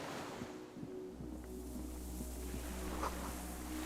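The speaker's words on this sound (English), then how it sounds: "Water rushes far below." A low, steady rush of distant water far below and wind fills the background in the video game Disco Elysium, soft and continuous beneath a faint droning hum.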